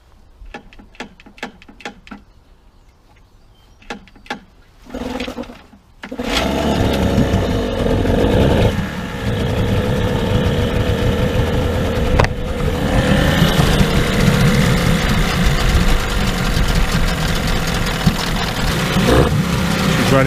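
A Tohatsu 15–25 hp outboard motor in a test tank: a few pull-start clicks and short coughs, then it fires and settles into a loud, steady idle with a faint tick running through it.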